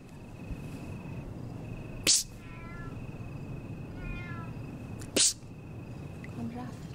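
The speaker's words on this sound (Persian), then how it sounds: "گربه بود؟ گربه؟" A cat gives two brief meows in a comedy series scene, set against a steady insect-like whine and two sharp, loud bursts of noise.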